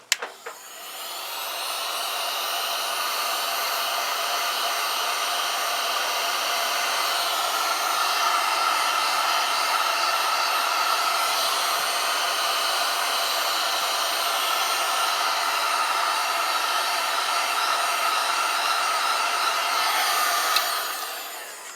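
A heat gun blows steadily for about twenty seconds, heating solder sleeves onto motorcycle wiring on a Zontes Tiger 125, with a loud, even whooshing roar from start to finish and no talking.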